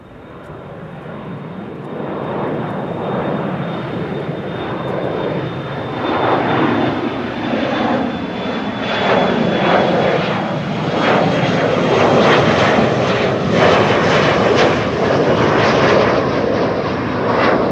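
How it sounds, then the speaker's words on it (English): KLM Embraer 175 jet taking off from Amsterdam Schiphol, a loud, close engine roar building and holding with a thin whining tone above it, no voices. "That's an Embraer 175 to Luxembourg."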